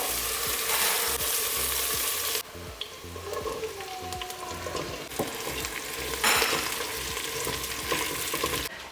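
A spoon scrapes and stirs pasta sauce in a frying pan over a continuous sizzle, with louder hissing stretches and quieter gaps. The pan is close and no one speaks.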